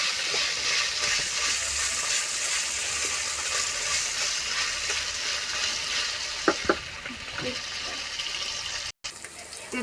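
Ginger, garlic and coriander paste frying in a pan, a steady close hiss and crackle of sizzling oil with a few clinks of stirring near the end and someone talking over it.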